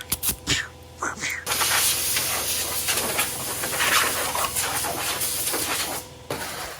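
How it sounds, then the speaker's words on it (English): A thickness planer feeds pine boards through, its loud broadband roar of cutting steady for several seconds between brief quieter gaps at the start and end. "Before I run the boards through the table saw, I like to send them through the planer a few times and get them all to the same thickness"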